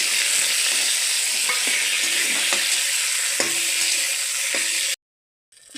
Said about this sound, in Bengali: এবার আলু বেগুন দিয়ে দিয়ে ভেজে নেব।